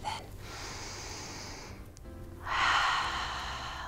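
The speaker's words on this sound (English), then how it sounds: "Take a breath in." A person takes a deep breath in and then lets it out, two close, soft airy breaths separated by a short pause.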